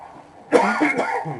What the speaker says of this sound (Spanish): Perdónenme, tengo un poquito de tos.